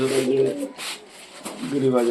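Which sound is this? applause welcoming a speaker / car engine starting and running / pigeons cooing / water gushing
pigeons cooing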